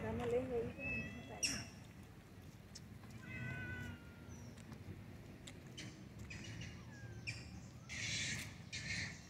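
Street cats meow repeatedly at feeding time, the cries close and insistent, over people talking in a quiet outdoor setting.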